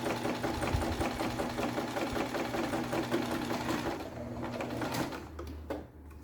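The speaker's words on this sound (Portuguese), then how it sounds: "Vou passar uma costurinha reta aqui." A sewing machine runs steadily for about five seconds, stitching a straight seam on a fabric beach bag, with a busy rapid mechanical whir. It then stops, leaving a low hum and a few small handling clicks.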